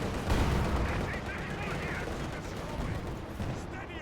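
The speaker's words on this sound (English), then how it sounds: "T-34 firing at them" Battle noise from Company of Heroes 2 with a T-34 tank firing, a dense, continuous roar of gunfire and blasts with a heavy low rumble, steady and loud throughout while a voice talks over it.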